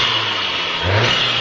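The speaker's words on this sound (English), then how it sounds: "Give it a rev." Volkswagen Golf R engine after its first modification, idling near and loud, then a short throttle blip swells midway before settling back to a steady run.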